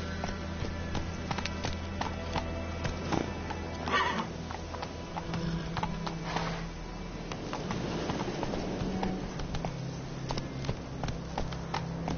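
Horse riding in The Witcher 3: Wild Hunt, with hoof clops and horse sounds over a steady game soundscape of music and ambience, continuous throughout.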